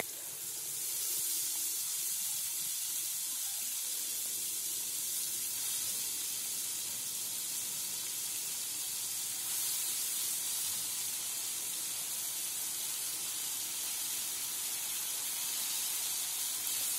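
Fenugreek (methi) leaves hit a hot pan and sizzle with a steady, bright hiss that holds for about seventeen seconds, close and fairly loud, with no voices over it.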